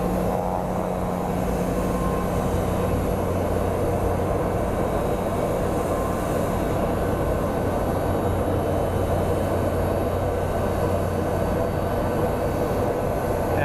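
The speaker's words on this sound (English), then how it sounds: "It's an Airbus A321neo." A jet airliner, an Airbus A321neo, rumbles steadily at Phoenix Sky Harbor airport, a continuous broad engine roar with a low drone holding at a constant level throughout, no talking.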